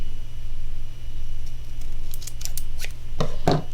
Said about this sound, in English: So I'm going to cut it in half, and I'm going to cut it up the long way